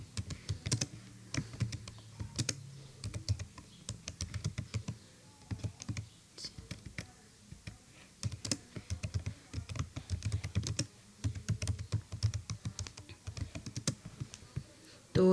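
Typing on a computer keyboard while entering a search, heard as steady irregular clicks and bursts of keystrokes throughout, close and fairly quiet, with no talk.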